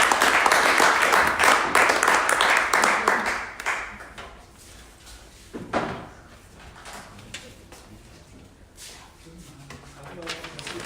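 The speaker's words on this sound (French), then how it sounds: "Applaudissements." At an education forum, an audience applauds with a dense burst of clapping that fades over a few seconds. Scattered claps and a sharp knock follow, and then quiet room sounds remain.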